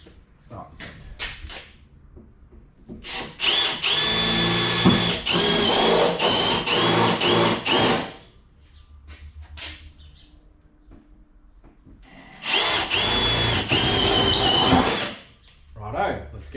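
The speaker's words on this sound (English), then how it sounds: "I'm going to drill it out, just drill a hole to start my air hacksaw in" Power drill boring a starter hole through the body panel of a GU Nissan Patrol for a 4-inch snorkel install, loud whining bursts of several seconds separated by quieter pauses with a voice nearby.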